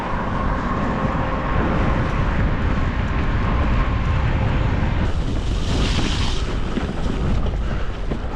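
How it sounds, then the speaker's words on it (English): Strong wind blowing outdoors on a sunny, cold day by a towpath, roaring continuously across the microphone in loud gusts with no voices. "It's sunny, but it's also windy."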